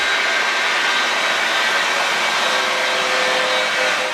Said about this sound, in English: It's semi trucks with jet engines.